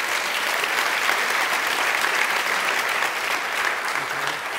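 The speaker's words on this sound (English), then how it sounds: "a big round of applause" A lecture audience breaks into a big round of applause, a thick, even wash of many hands clapping at once, loud and sustained without pause.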